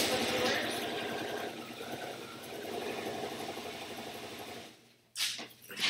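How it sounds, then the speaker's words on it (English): A sewing machine stitches quilt scrap pieces with a steady, close mechanical hum and rapid needle chatter, then stops abruptly near the end as a voice briefly speaks. "I'm not going to stop sewing until I get a second one underneath the needle."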